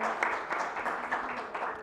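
Brief, moderate applause from a seated audience welcoming a guest professor at a Marathi literary gathering, a short burst of clapping lasting under two seconds.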